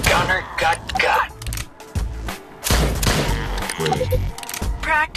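Video game gunfire in a shooting practice scene, rapid bursts of sharp shots and cracks in quick clusters, mixed with game voice lines and effects, loud and close.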